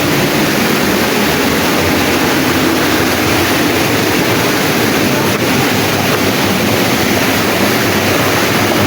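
Lambingan Falls in the Philippines, a loud, continuous rush of falling water, dense and steady throughout, with some wind buffeting on the microphone.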